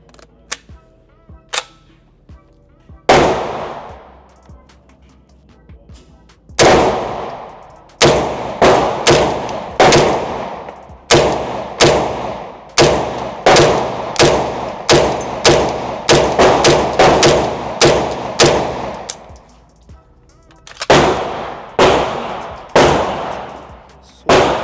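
An MP5 clone fires outdoors: sharp, loud single gunshots, first spaced out, then in quick irregular strings, with pauses between bursts and no talking.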